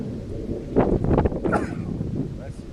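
Heavy wind gusts buffet a Cottonwood XLT shade tent outdoors, a continuous rough roar with louder surges, while people talk over it.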